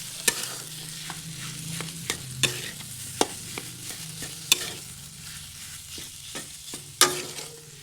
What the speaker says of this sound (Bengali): ভালো করে মিশিয়ে নিয়েছি মশলার সঙ্গে আলুগুলি।